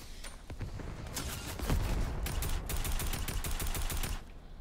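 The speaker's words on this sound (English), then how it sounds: "I got gunfire over here" Rapid bursts of Fortnite gunfire crackle and boom, with automatic volleys and heavier blasts overlapping at moderate distance.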